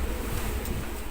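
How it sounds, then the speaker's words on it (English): Strong wind of around 35 knots howls through a sailboat's rigging at sea, a dense, steady roaring rush with no pauses, heard close and loud on its own. "Right now, once again, the wind is howling through the rigging."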